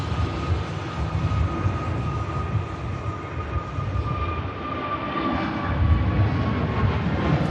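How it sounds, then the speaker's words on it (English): An EasyJet Airbus A321neo jet departing Manchester Airport for Paris gives a continuous broad engine roar with a faint whine, growing slightly louder toward the end, with no voices. "This is the second 321 Neo of EasyJet that's headed down there in the last hour"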